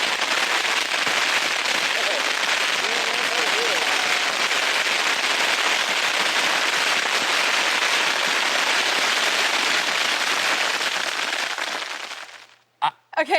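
Thousands of bottle rockets, about 8,500, fired at once, a dense continuous crackling hiss that roars for over ten seconds, then fades and stops, leaving a few sharp pops at the end.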